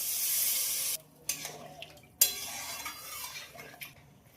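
Water hits a pan of potatoes frying with spices, giving a loud hiss that cuts off abruptly, then leaves softer sizzles and a few clinks of a utensil against the pan, with no talk.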